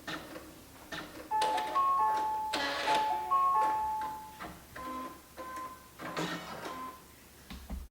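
An embroidery machine runs a basting stitch, its needle chattering in quick steady bursts with brief pauses and tonal motor whines, close and moderately loud.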